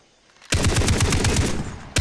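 Sustained machine gun fire from the video game Far Cry 3 bursts in loudly after a quiet moment, a rapid continuous rattle of rounds that cuts out briefly near the end and then resumes.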